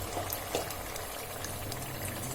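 A pot of eggplant vegetable curry with oil and blended spice paste simmers close by, giving a steady bubbling hiss with a couple of faint clicks and no talking.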